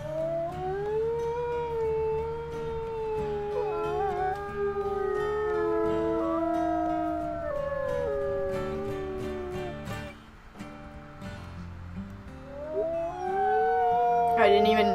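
Wolves in a pack rally howl together in a wolf-life simulation game, several long rising and falling tonal howls overlapping and layered, steady and loud across the whole stretch with a brief dip midway.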